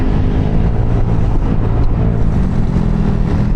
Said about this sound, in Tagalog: Testing ng busina.